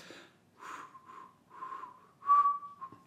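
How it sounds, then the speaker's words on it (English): A series of short whistle toots, breathy and uneven, several brief blasts with pauses, the fourth one longer and louder, heard alone in a quiet room. "can you blow a whistle?"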